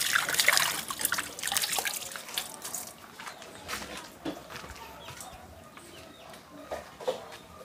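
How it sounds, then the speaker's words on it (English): Water is poured into a cooking pot holding peas, making a splashing trickle that is strongest at the start and then fades, with chickens clucking nearby. "Get more water for the pot."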